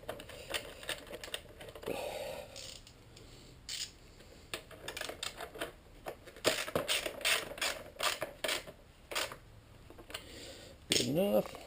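A hand ratchet drives a bolt into a Kawasaki ZX10R motorcycle during a track-to-street conversion. Rapid clicking bursts repeat in uneven runs close by, with someone speaking in between.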